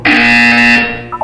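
A loud, steady electronic buzzer tone from the Portal 2 video game sounds for just under a second, then cuts off into brief faint chirps.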